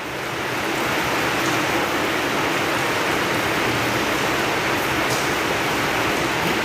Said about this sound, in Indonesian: Ini suara hujan ya di sekolah,